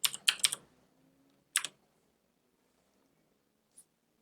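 Keystrokes on a computer keyboard entering a command at a prompt: a quick burst of clicks, a pause, another short cluster, then one faint final tap, close and alone.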